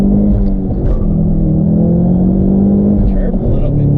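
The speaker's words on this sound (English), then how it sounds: "Definitely chirping those tires, dude." A Ford Mustang EcoBoost accelerating hard: a close, loud engine rumble that swells and holds steady across the whole clip.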